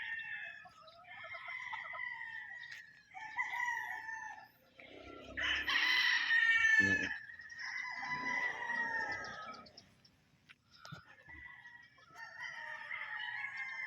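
Several chickens on a poultry farm crow and cackle close by in drizzly weather, overlapping calls rising and falling almost continuously with a brief lull near the end.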